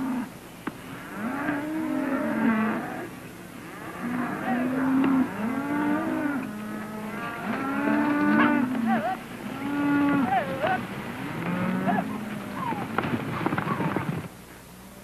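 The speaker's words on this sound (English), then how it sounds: "And Benson, don't push the cattle too hard" Cattle moo repeatedly during a cattle drive on a Wyoming range, several overlapping low calls spread through the scene at moderate distance, with faint background noise between them.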